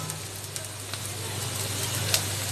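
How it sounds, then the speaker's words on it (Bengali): Spice paste with turmeric and a little tomato sauce fries in a pan for a fish curry, a close, steady sizzle with light stirring clicks, while someone talks faintly over it. "দিয়ে আমি ভালো মতো মশলাটাকে ভেজে নেব।"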